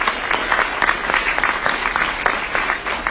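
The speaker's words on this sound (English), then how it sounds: "please join me in giving our panelists a round of applause for coming" Audience at a public meeting in Los Angeles applauds the panelists: a steady, dense wash of many hands clapping, moderately close, holding evenly for about three seconds without talk.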